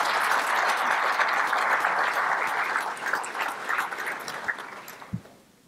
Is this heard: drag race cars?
no